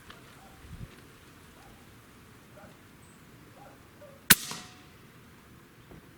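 A single sharp crack from an AEA Megalodon air rifle at an outdoor range, fairly close and brief, standing out against a soft, steady background hiss.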